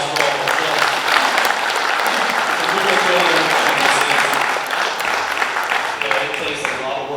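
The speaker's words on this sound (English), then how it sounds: "So let's give a big round of applause for all of us." A banquet audience at a racing awards night breaks into a sustained, dense round of applause that carries steadily from start to finish, with voices mixed in beneath the clapping.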